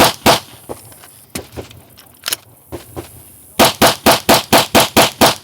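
Ten rounds of pistol fire at a shooting range with no rear sight: several scattered shots early on, then a fast, evenly spaced string of loud sharp reports near the end.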